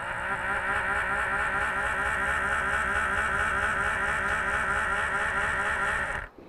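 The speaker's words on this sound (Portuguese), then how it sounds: "Vocês podem notar que o motor ele gira com menos intensidade" A small electric motor driven directly from an Arduino spins with a steady, even whine and hum, running continuously before cutting off abruptly at the end.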